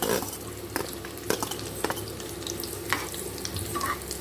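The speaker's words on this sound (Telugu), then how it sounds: "కిస్మిస్, జీడిపప్పు, బాదం వేసుకొని ఈ నేతిలో ఫ్రై చేసుకుందాం" Almonds fry in ghee in a pan with a steady soft sizzle, while a spoon scrapes and clinks against the metal in irregular strokes, close and fairly quiet.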